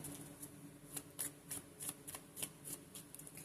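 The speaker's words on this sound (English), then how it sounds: "just go ahead and give this a good shuffle" A deck of tarot cards is shuffled by hand in a quiet room, a series of soft, crisp riffling bursts repeating in an uneven rhythm, close and fairly faint.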